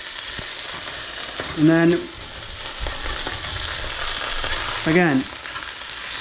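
Cheese sizzling and burning on a smashburger griddle, a steady loud frying hiss throughout, with a person briefly speaking over it twice.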